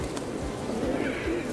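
Pigeons cooing around people in a plaza in Old San Juan, Puerto Rico, low murmuring coos blended into a steady outdoor background, brief and moderately near.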